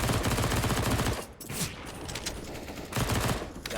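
Gunfire in a competitive video game match, two loud bursts of rapid shots separated by a quieter gap with a few scattered single reports.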